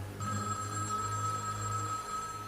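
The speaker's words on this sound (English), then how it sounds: "Till the phone rings and station wants you." A telephone rings with a steady electronic trill that starts abruptly and holds, loud and close, with nothing else over it.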